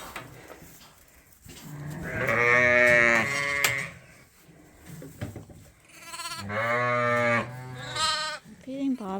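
Sheep and bottle lambs bleat loudly in a pen, two long wavering calls close by separated by shuffling and quieter noises, with a further shorter bleat at the end.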